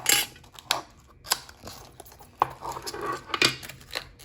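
Close-up rustling and crinkling of packaging with sharp snips and tearing sounds in irregular bursts, as a boxed model BN flat car is opened and unwrapped.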